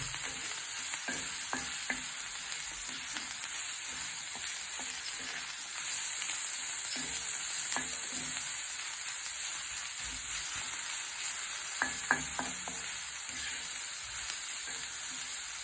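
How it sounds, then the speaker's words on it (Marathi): Dried fish (sukat) chutney mixture sautéing in a pan, a continuous sizzle broken by scattered scraping and tapping strokes of a spatula, some in quick clusters, close up with no talking. "आता आपण ही सर्व मिश्रण व्यवस्थित मिक्स करून परतून घेणार आहोत"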